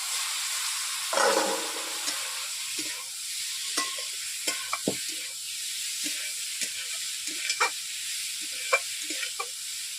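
Steamed cauliflower and potato frying in a kadai with ground spices, a soft hiss with repeated spatula scrapes and knocks against the pan.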